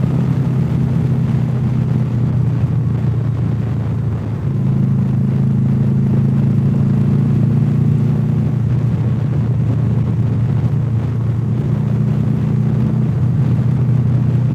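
Oncoming cars pass on a road, heard from inside a moving vehicle as a loud, steady engine and road rumble with swelling tones as traffic goes by.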